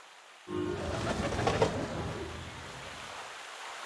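Pigeons coo in the video game Star Stable Online, a soft, close burst of cooing that rises, peaks midway and fades over gentle ambient background noise.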